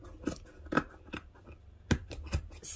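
Scissors snip through knit sweater fabric while cutting a sleeve for a handmade gnome, giving several separate crisp close cuts with short pauses between them.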